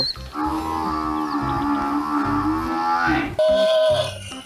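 A toy buffalo plays a loud, sustained electronic moo lasting about three seconds, then gives a short second sound, with no talking over it.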